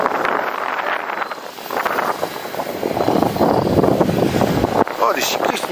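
Strong wind buffets the microphone beside the river Sambre at Marcinelle while fishing, a rough, gusty roar rising and falling, with a voice partly heard under it.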